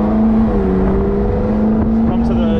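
Exotic car accelerating onto a race track on a track day, a steady loud engine drone with the pitch slowly climbing, heard from inside the cabin, with a voice faintly under it.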